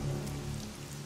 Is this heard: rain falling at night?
yes